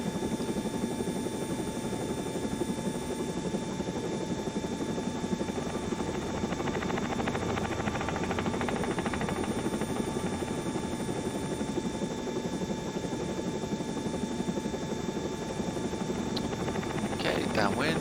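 Steady drone of a training helicopter in flight, banking onto a downwind turn near an airport, with constant rotor and engine noise filling the whole span and a pilot's voice talking over it.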